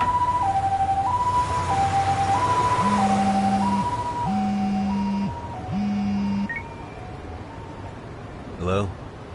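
Ambulance siren from the video game Lost Judgment, a two-tone wail alternating high and low steadily across the scene, with a lower horn-like tone pulsing three times beneath it before a brief rattling burst near the end.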